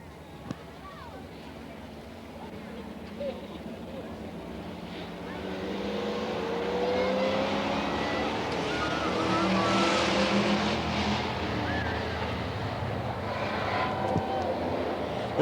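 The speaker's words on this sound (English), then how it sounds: "This is a 10-lap heat race." Pure stock race cars running a 10-lap heat race at Coos Bay Speedway in 1988, engines droning and swelling as the pack roars past, building louder and holding steady under a track announcer's ongoing commentary.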